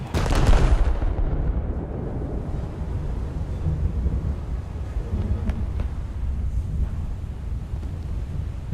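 Heavy naval gun salvos from the battleship Kongo in a naval video game: one loud, deep blast at the start, then a long, rumbling roar with scattered faint distant thumps.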